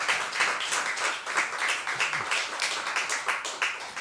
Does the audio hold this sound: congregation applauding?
yes